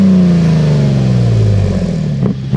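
Close, loud exhaust roar from a 2022 Toyota Tundra fitted with a Carven cat-back system. A single rev holds briefly, then winds down with a falling growl and a few crackles near the end, with no voices.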